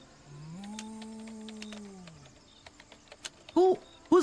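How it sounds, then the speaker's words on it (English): A cow moo from the video game Diablo, a drawn-out low bellow lasting about two seconds at moderate level, followed by brief clicks and a couple of short voice-like sounds near the end. "Someone just mooed at me."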